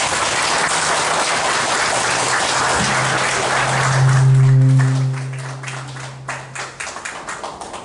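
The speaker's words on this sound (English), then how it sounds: "give a round of applause to those that served" Applause from a ceremony audience honoring women in uniform rises in a dense patter, peaks briefly, then thins into scattered claps as a voice speaks over it.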